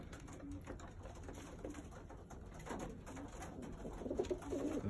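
Racing pigeons coo softly in low, throaty bursts, a few calls layered over a quiet, steady background hum.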